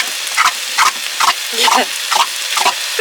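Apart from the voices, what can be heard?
stirring beans in a pan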